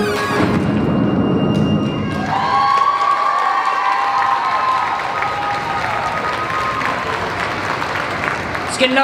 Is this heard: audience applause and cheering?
yes